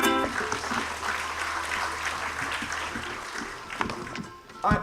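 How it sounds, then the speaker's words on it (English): Audience applause at a graduate gathering rises as a broad wash of clapping, dense at first and steady, with a few louder sharp claps near the end. "please give all of you a big round of applause"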